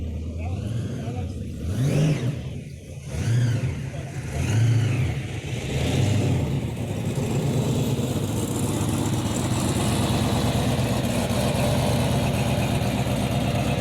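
A hot-rod Chevrolet Camaro on wide steamroller tires at a car show revs up in a few strong bursts, then settles into a loud, steady, throaty rumble close by, with some talking over it.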